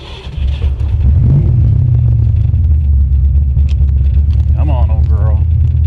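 A 1989 Ford Mustang GT Foxbody V8 idles and revs with a loud, steady low rumble, close by throughout; someone speaks briefly over the engine.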